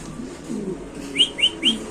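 Pigeons at a market give three quick, bright chirping calls in a row near the end, over soft background murmur.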